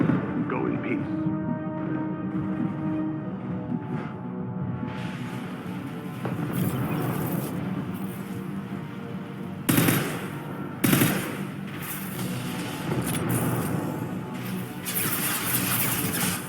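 Gunfire in Mass Effect 2 Legendary Edition rattles in bursts under a steady bed of game music, with two sharp louder shots standing out partway through.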